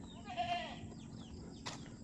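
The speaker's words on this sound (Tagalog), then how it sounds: "Kawawa man ng kambing, nakakulong dito" A caged goat gives one clear, close bleat early on, followed by a quieter second cry, over a low steady background hum.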